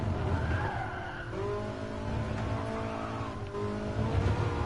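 Race car tires skidding under braking in GT Sport, a close sustained screech over the engine note as the car slows through a corner.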